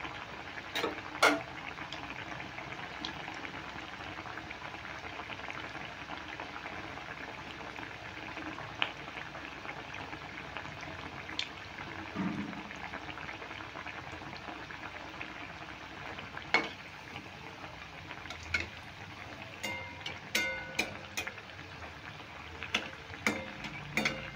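Bread pakora coated in an egg batter deep-fries in hot oil, a steady close sizzle and bubbling that runs throughout, with occasional light clicks and taps of a utensil and no speech.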